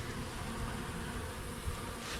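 A small cluster of bees buzzing around taro stakes at a homeowner's property, a continuous close droning hum that stays fairly even throughout with no voices.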